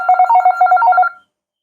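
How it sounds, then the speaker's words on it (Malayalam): A homemade electronic circuit plays an old landline telephone ring: one loud, close, rapidly trilling electronic burst of about a second, which then cuts off into silence. "പഴയ ലാൻഡ് ഫോണിൻ്റെ ശബ്ദം കിട്ടിയതിൽ"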